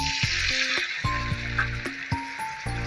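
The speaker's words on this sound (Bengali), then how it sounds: "ভালোভাবে নেড়ে চেড়ে কষিয়ে নেবো।" Beef kofta curry masala with yogurt sizzles over low-medium heat as it is stirred, a continuous hiss broken by utensil clinks beneath tonal background music.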